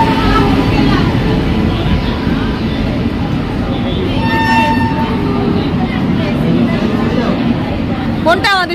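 A train pulls into a station, its horn sounding in rising tones near the end over a steady rumble of crowd and rail noise, with people talking throughout.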